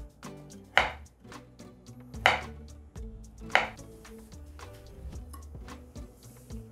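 Three distinct knife cuts slice an avocado into strips against a board at a slow, even pace, under quiet background music.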